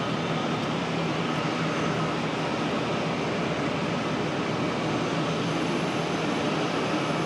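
A JetBlue jet airliner at Charlotte airport produces a steady broadband engine roar, continuous and moderately distant, with no voices over it.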